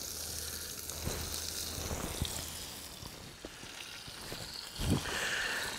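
Beer lamb shanks browning in a pot over a campfire sizzle in a steady, hissing wash, with occasional small pops and knocks, close and continuous.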